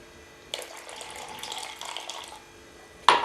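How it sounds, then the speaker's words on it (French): Lukewarm water pours into a glass for a homemade remedy of garlic, honey, onion and lemon, a soft steady trickle lasting about two seconds, followed by a sharper splash near the end. "On va rajouter 3/4 de verre d'eau tiède"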